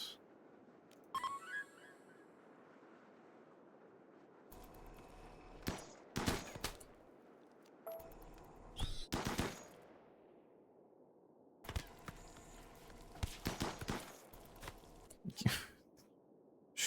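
Scattered bursts of gunfire from the colony-building game Rimworld, sharp cracks and short volleys spaced unevenly across quiet gaps, fairly faint overall.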